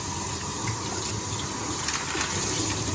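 Well water running and splashing as a canister aquarium filter, a SunSun HW5000, is rinsed out, a steady close gush like an open tap filling a sink, continuous for the whole stretch with no talking.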